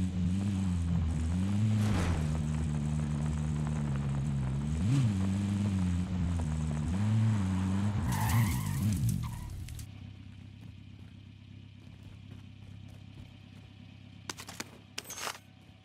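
A vehicle engine in Call of Duty: Modern Warfare drones steadily with wavering pitch as the car is driven, then fades to a quieter rumble, with a few sharp clicks near the end.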